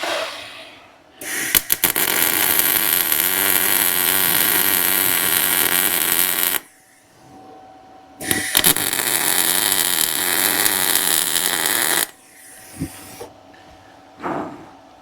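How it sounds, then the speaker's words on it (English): An angle grinder works 3/16-inch steel plates boxing in a notched truck crossmember on a V10 Dakota, sounding as two long, loud, harsh whining runs separated by a pause, followed by short bursts near the end. "I'm gonna be doing some grinding on this one."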